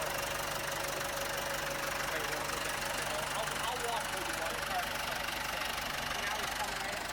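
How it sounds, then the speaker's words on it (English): An old John Deere tractor engine runs steadily nearby on a farm, a continuous low mechanical drone with knocking texture that holds at even loudness throughout. "busy running his tractor right over there"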